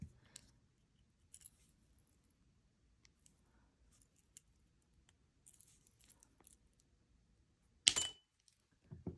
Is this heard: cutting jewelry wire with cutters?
yes